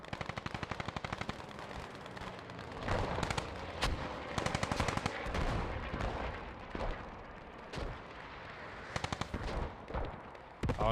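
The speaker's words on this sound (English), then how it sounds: "I hope they fix that goddamn machine gun. It's so loud." Machine gun fire in a war video game, rapid rattling bursts repeating in clusters over a dense background of distant battle noise and explosions, fairly quiet overall.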